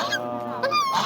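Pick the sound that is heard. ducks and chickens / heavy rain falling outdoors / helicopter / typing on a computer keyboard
ducks and chickens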